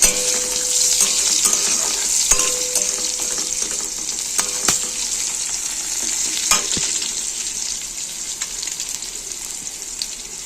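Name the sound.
frying onion and green chilli tempering, stirring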